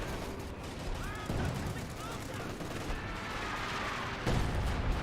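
Dense artillery barrage in the video game Company of Heroes 2: a continuous roar of rumbling blasts and crackling gunfire, with a louder burst near the end and a voice talking over it.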